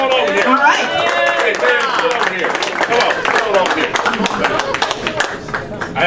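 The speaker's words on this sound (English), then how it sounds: "Let's have a round of applause for Commissioner" Audience applause for a commissioner at a township Democratic organization fundraiser, steady clapping from a crowd filling the room, with chatter and voices mixed underneath.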